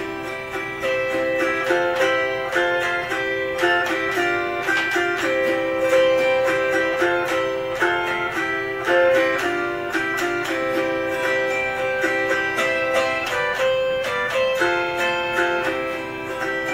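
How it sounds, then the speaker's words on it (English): An autoharp strums a galloping bluegrass rhythm in the style of Carter family music, with bright, rapid plucked chords and a steady driving pulse that continues evenly for about seventeen seconds. "You can hear the auto harp in the background"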